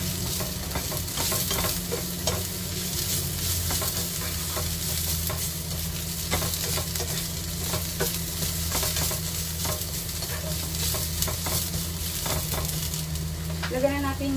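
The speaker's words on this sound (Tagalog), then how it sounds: "Ayan na siya, nag-stir fry na siya." Pork belly with preserved mei choy stir-frying in a pan, a steady close sizzle with frequent scraping stirs of the spatula, broad and continuous throughout, with a low hum underneath.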